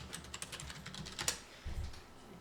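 Keys on a computer keyboard being typed in quick irregular bursts, entering an English search query on an image website, faint and close with no voices.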